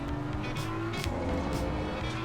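Race cars in the sim racing game Assetto Corsa Competizione at the Hungaroring circuit: a steady, loud engine drone with shifting pitch and brief swells as cars pass, with no talking.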